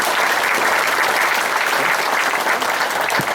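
An audience at a gathering in Bali claps continuously, a dense and even burst of applause filling the whole moment with no break.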